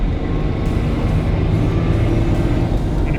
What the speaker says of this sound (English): if you can hear that, it's got a nice exhaust note as well